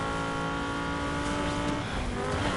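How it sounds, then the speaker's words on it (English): Sustained engine of a Lamborghini Huracan in Need for Speed Heat, a loud, steady high-revving drone with layered harmonic tones and faint tire noise, heard alone. "this is a Lamborghini Huracan"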